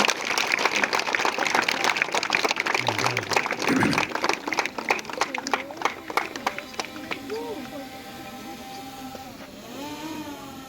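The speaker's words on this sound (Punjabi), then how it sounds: "ਜ਼ੋਰਦਾਰ ਤਾੜੀਆਂ" A school audience at a DAV school fitness event breaks into loud, dense clapping that fills the first half, then thins out as a voice begins speaking over the fading applause.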